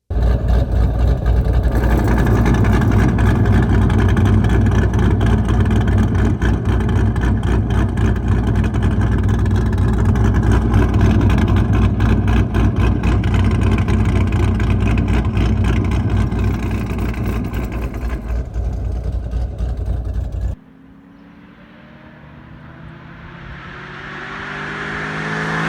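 A loud, steady roar from an LS-based V8 car with a performance camshaft, holding hard for a long stretch before cutting off, then a quieter pass that swells again as it nears.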